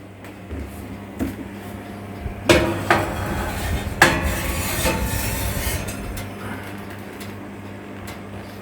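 A baking dish of rice pudding is set into the middle of an oven, giving several clanking metallic knocks and scrapes. A couple of sharper thuds stand out before the sound settles into quieter rattling, all close by with no talk.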